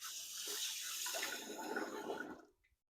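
Eggshells rinsed under a running kitchen tap while making cornbread, a steady close splash of water for over two seconds that cuts off abruptly, leaving near silence.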